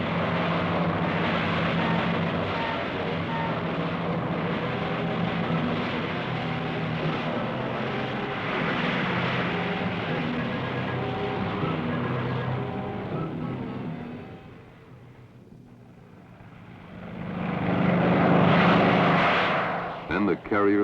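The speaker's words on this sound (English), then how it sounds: "these B-25s took off in weather that wanted to" B-25 bombers take off from the aircraft carrier Hornet in rough weather, a loud, sustained roar of piston engines that swells, dips briefly, then surges again, with narration running over it.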